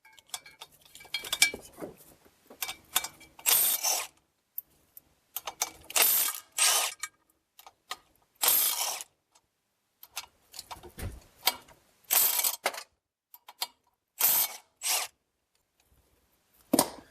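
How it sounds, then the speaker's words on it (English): Ratchet wrench loosening six 17 mm bolts on a 2014 Ford Escape with a cracked flexplate, heard as repeated bursts of sharp clicking separated by short pauses, fairly close and without talk. "we're going to remove these 6 bolts"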